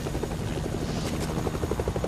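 A helicopter in the video game Fortnite gives off a steady rhythmic rotor thump and engine drone, loud and continuous with no talk over it.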